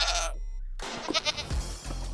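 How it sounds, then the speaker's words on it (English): Goat bleating, recorded for Minecraft at close range: a couple of short, wavering cries after a brief cut, loud and near, with no talking. "They have their own unique voices, which means we now have unique goat sounds in Minecraft"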